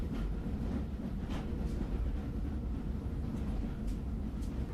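A passenger train pulls out of Havre station, heard from on board as a steady low rumble of rolling wheels and carriage noise, with faint rattles and clicks over the top.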